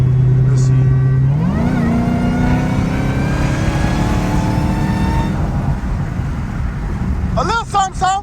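A catless Dodge Hellcat's engine holds a loud, steady drone, then climbs in pitch as it accelerates hard and keeps pulling for several seconds, with a brief burst of voices near the end.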